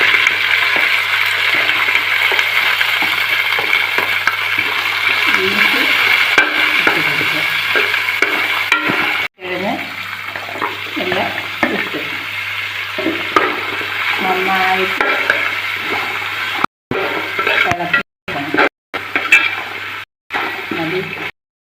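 Green chilies and beans stir-fried for vegetable biryani, a steady sizzle with scraping stirs, dropping out in several short breaks near the end while a voice talks over it.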